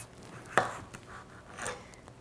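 A knife chops through a cucumber on a cutting board, a sharp crisp thunk followed by a softer second cut, close and clear.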